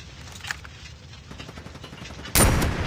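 Gunfire in the mobile shooter Call of Duty Mobile, with a sudden loud burst near the end over a murmur of game sound and faint background chatter.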